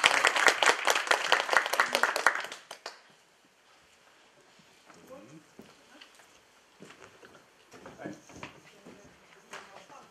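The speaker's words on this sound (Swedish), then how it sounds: "Applåder." An audience at a talk on Swedish retake exams claps loudly for about three seconds, then the applause cuts off into a quiet room with scattered faint voices and small movements.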